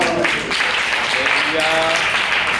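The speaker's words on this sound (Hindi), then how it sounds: "वेरी गुड, ताली बजाएंगे सब।" An audience claps at a Hindi-speaking church revival gathering, a brief dense patter of hands under and between overlapping voices.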